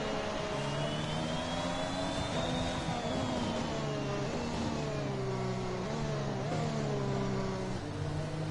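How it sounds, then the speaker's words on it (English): A race car engine over-revs behind the safety car in a racing video game at Austria, its high, buzzing pitch rising and dipping in repeated sweeps while other engine drones layer underneath. "Rogers is very over-revving his engine just there"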